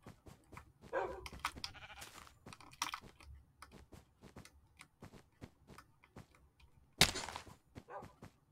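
Sheep in the Minecraft video game bleat in short, scattered calls among a flock, mixed with small clicks and game sounds, fairly quiet with a sharp louder burst near the end.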